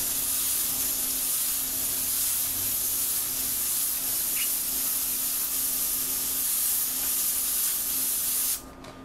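An airbrush sprays paint for script lettering, a loud, steady high hiss that holds evenly for about eight seconds and then stops abruptly, with a faint constant hum underneath.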